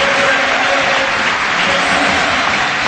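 Steady, roaring applause from a football stadium crowd at Gerland in Lyon during a 1996-97 Lyon versus Marseille league match, heard as a continuous wash of distant clapping.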